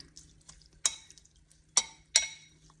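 A spoon stirs fruit with about 20 grams of sugar in a bowl for a mango and apricot sourdough, giving three sharp clinks against the bowl over a soft scraping background, close and with no talk.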